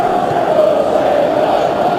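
A football stadium crowd during a Manchester City versus Everton Premier League match gives off a loud, steady roar, a sustained mass of voices that holds level throughout with no break.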